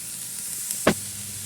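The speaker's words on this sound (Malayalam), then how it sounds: "ഇനി നമുക്ക് അരിഞ്ഞു വെച്ച ചൈനീസ് ക്യാബേജില്ലേ അതിട്ട് കൊടുക്കാം" Chopped Chinese cabbage dropped into a hot pan for a broccoli thoran, giving one brief sharp sizzling burst over a faint steady background, close and with no talk.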